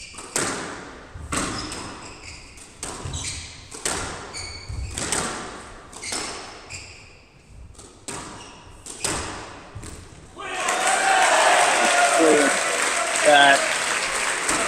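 Spectators at a squash final clap in rhythmic bursts, then break into loud sustained applause and cheering as the match heads into a fourth game; sharp hand-slap and thud transients punctuate the early stretch.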